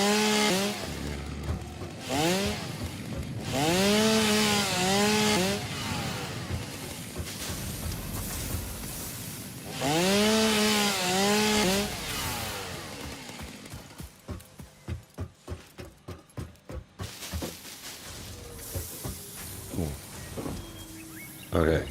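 Factory machines in the video game Satisfactory turning out rotors, with whirring mechanical sweeps that rise and fall, then a run of rapid rhythmic clatter, all fairly quiet.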